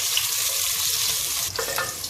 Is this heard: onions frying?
yes